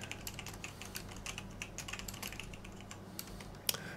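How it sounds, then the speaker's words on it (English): Rapid typing on a computer keyboard while installing software on Linux Mint 20, steady clattering keystrokes at close range over a low background hum, with one sharper click near the end. "Type it right."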